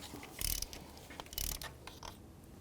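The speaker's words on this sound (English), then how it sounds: "Take a spark plug socket, remove the spark plug." A ratchet with a spark plug socket clicks and grinds in short bursts as a spark plug is loosened from the engine of a 2003–2007 Cadillac CTS, close and moderately loud.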